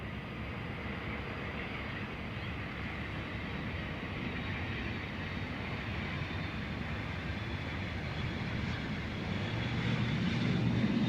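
Private jet engines at John Wayne Airport, a steady broad rumbling roar that holds for several seconds and slowly swells louder toward the end, with no talk over it.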